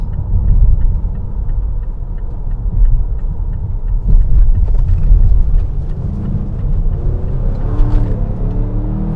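A 2022 Mazda CX-5 Signature driving in sport mode, heard from inside the cabin as a steady low engine and road rumble that swells a little under acceleration, with no talking.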